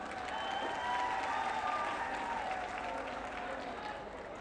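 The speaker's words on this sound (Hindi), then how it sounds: "जोरदार ताली बजाओ" Loud, sustained applause from a live concert audience at a festival in Bodhgaya, Bihar, a dense steady wash of clapping that holds for several seconds before easing slightly near the end.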